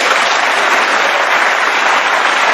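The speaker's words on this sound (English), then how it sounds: "The applause from the mathematicians in the audience" Snooker audience applauding at the end of a frame and match, dense steady clapping from a crowd, loud and sustained throughout without pause.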